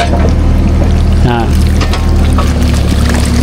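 Water pours and rushes continuously at close range into a canal, a loud steady flow of cold water with faint voices beneath it.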